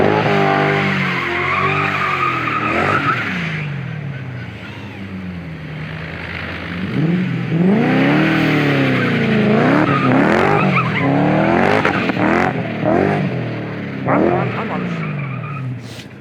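A car fights for grip while attempting to drift on cold, wet asphalt, its tires skidding and squealing in long, loud, wavering sweeps over engine revs, with people talking nearby.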